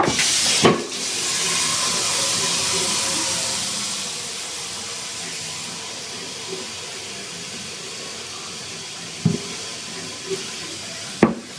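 A steady broadband hiss of water pouring from a kitchen tap fills most of the clip, easing slightly after a few seconds, with a few faint clicks and knocks.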